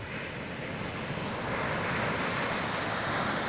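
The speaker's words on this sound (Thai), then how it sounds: "หน้านี้คลื่นแรง" Strong seasonal surf pounds a sandy beach at Khao Phlai Dam in Sichon, southern Thailand, giving a continuous, full roar of crashing water mixed with gusting wind on the microphone.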